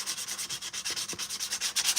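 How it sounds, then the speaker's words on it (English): Custom Mandalorian armor is sanded by hand in quick, even back-and-forth strokes, about eight rasping rubs per second, close and fairly quiet with no talking. "run out to the shed or run out to the garage and start sanding shit"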